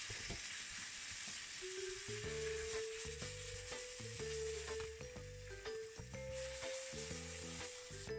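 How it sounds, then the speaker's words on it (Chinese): Spinach stir-fried in a frying pan gives a steady, close sizzle throughout, running under a melodic tune that plays continuously. "炒一点菠菜"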